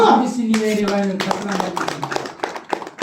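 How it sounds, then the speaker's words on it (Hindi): Congregation claps hands at an all-night prayer meeting, sharp close claps starting after the first second and continuing to the end beneath a loud voice speaking or singing. "ताली बजा"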